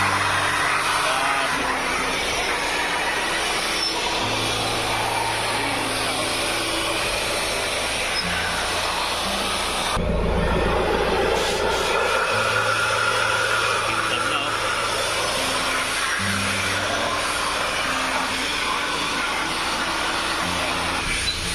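An engine being worked on in a repair shop revs repeatedly, a loud mechanical drone swelling and easing in long surges, with people talking nearby throughout.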